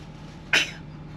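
A single sharp sneeze close by, short and explosive, heard over a steady low hum at a ranch while steers are being loaded.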